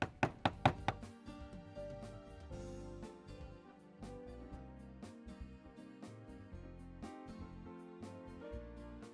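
Minced meat for kibbeh is pounded by hand, producing rapid, loud knocks at the start that settle into a steady run of dull, repeated thuds under a dense background, with no voices.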